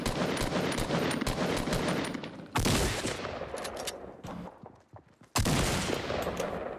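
Rapid bursts of shotgun fire in a Fortnite match, loud and dense, with dense volleys broken by brief lulls and a fresh blast of shots near the end.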